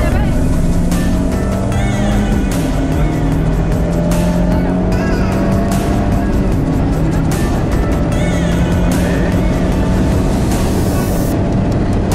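An Abarth car accelerating hard around the Magny-Cours race track, its engine note climbing steadily through the gears. The sound is loud, close and continuous, with some wind and road noise and a faint voice underneath.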